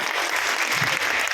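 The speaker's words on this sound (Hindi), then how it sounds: "पांडे जी एक्सीलेंट, बहुत ही बढ़िया, जोरदार तालियां होनी चाहिए।" An indoor audience at a business organisation's director event gives loud, dense, sustained applause, many hands clapping steadily without a break across the whole moment.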